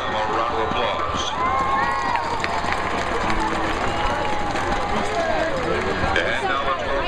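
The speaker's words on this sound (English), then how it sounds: "Please give them a round of applause." A stadium crowd greets the homecoming king and queen with a broad wash of cheering, shouting and babble, carried along at a moderate level with voices mixed throughout.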